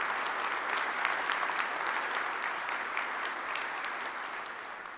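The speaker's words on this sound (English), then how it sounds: "just a quick round of applause for all the people making this happen who you don't actually get to see" An audience at a JavaScript conference keynote breaks into applause, a dense wash of clapping with individual claps standing out, steady and fading slightly at the end.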